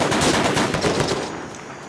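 Rapid automatic gunfire from a weapon in the video game Ravaged, a close, loud continuous burst that fades slightly toward the end.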